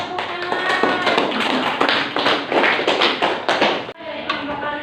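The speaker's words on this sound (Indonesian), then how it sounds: "tepuk tangan" Students in a classroom clapping together in a fast, loud patter of many hands, with brief uneven bursts and a short pause near the end.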